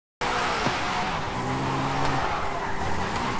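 Car drifting in Forza Horizon 5, its engine droning steadily with tires squealing and skidding throughout, loud and close with no talk.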